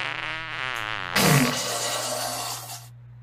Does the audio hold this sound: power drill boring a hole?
no